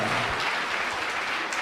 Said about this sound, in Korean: 우리 하나님께 영광의 박수 올려드리시다